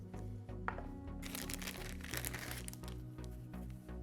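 A plastic packet of attachments for a 500 W air duster is crinkled and torn open during an unboxing, with dense rustling and crackling that starts soft and grows louder and busier midway, close to the mic.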